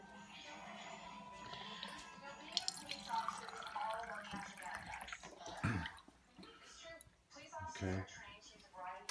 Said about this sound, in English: run the water very slow like we did before we did the clean